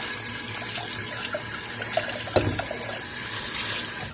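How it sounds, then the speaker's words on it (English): Cold tap water running steadily into a sink to wash beans, a constant close rush with small splashes and a brief clatter partway through. "run cold water through it and I'll wash it"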